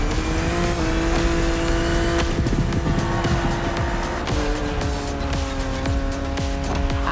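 A BMW Z4 E89 in the racing game The Crew Motorfest revs hard and loud through repeated gear shifts, its engine note stepping up and down with some tire squeal, and no talk.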